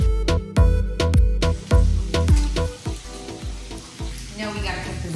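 Zucchini fries in butter in a pan with a loud crackling sizzle, broken early on by a run of sharp clattering scrapes and knocks, then a steadier sizzle with occasional pops.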